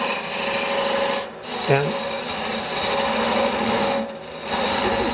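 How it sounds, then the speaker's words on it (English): A skew chisel cuts a V groove into a spinning wood spindle on a lathe with a continuous loud rasping scrape, easing off briefly twice. A short word is spoken partway through. "Now I'll take my skew chisel"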